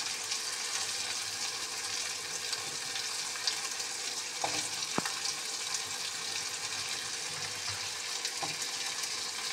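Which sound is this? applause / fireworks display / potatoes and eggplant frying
potatoes and eggplant frying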